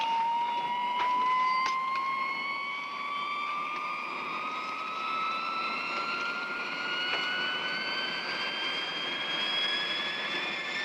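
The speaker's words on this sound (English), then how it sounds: "A low-wing, dual-control jet trainer, powered by 2 turbojet engines." A twin-turbojet, low-wing jet trainer's engines whine steadily at a distance, their high-pitched tones slowly climbing in pitch over a continuous roar.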